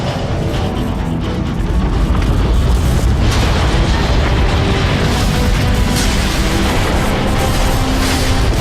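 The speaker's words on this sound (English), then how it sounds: "The neutron gun is activating." Neutron gun powering up in a Transformers Cybertron video game, a loud, dense, continuous mechanical rumble with booming, explosive surges throughout, no voices over it.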